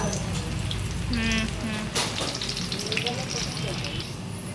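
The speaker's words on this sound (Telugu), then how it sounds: "మంచిగా గోల్డ్ కలర్ వేయించుకోవాలి" Pakoda batter fries in hot oil with a dense, steady sizzle and crackle that fills the whole clip, loud and close, and a brief voice and a faint clink come through on top.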